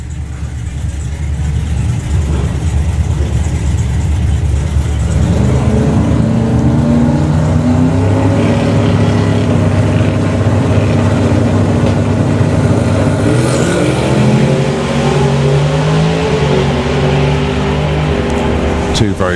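Drag race cars making a run at Santa Pod Raceway, a sustained loud engine roar with rising and shifting pitch as they launch and accelerate down the strip, with a commentator talking over it throughout.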